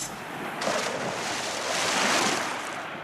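Sea waves roll and wash in a steady, loud surf with a windy hiss swelling and easing, a continuous ocean wash with no voices.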